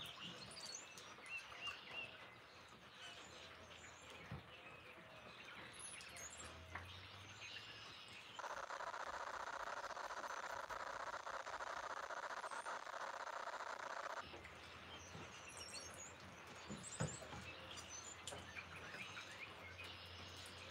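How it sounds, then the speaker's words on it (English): Faint, distant birds chirp intermittently over a soft outdoor background, with a steady hiss of rain or insects for a stretch in the middle. "I hear the birds."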